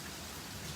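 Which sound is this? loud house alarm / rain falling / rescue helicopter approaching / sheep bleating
rain falling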